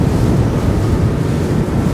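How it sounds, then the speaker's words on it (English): A Capelli Tempest 1000 boat runs out through ocean waves, giving a steady, loud rush of hull, water and wind noise with no pauses and no voices. "I'm just going to be cautious and careful as we exit out through these waves."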